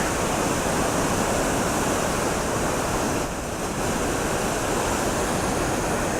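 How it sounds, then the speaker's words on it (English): Water about four or five feet deep pours across a dam in a loud, continuous close-up roar, with one brief dip partway through before the steady rush resumes. "That water is probably about 4 or 5 feet deep coming across that right there."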